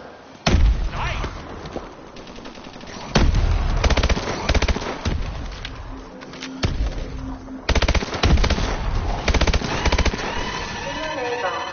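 Machine-gun fire in a zombie video game: loud, rapid automatic bursts that stop and start several times over a steady game backdrop, with brief lulls between volleys.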